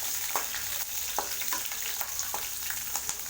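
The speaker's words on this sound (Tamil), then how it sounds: "பச்சை மிளகா பாருங்கள் பொரிஞ்சிருச்சு." Green chillies and curry leaves frying in a pan over a low flame, a soft steady sizzle punctuated by small sharp pops and crackles.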